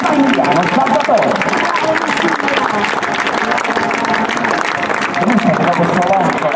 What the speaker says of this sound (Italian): Facciamo un grande applauso al nostro solista, il maggiore Massimiliano Salvatore.